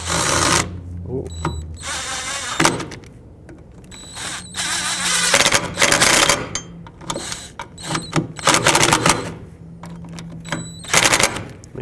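Power tool bursts snug up two 10mm bolts on the parking brake cable of a 2002-06 Toyota Camry. The rapid, rattling runs start and stop repeatedly and sound close, with a short spoken exclamation between them.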